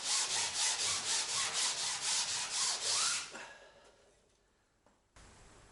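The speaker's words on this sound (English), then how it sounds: "Then we sand the workpiece, all the workpiece," A styrofoam boat workpiece is sanded by hand with sandpaper in about ten quick, even rubbing strokes. The rasping stops partway through, leaving near silence and a faint knock.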